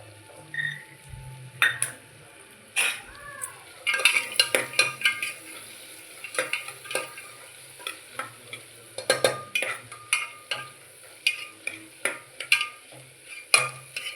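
Onions fry in a pan toward golden brown under a soft sizzle, while a utensil repeatedly scrapes and knocks against the pan in uneven bursts of close, sharp clatter; no one talks.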